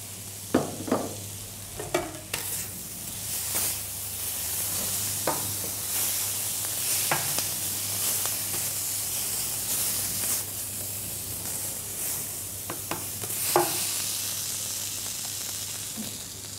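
Bread topped with cheese sizzles steadily in a pan, a soft continuous hiss broken by scattered sharp clicks and scrapes of a utensil.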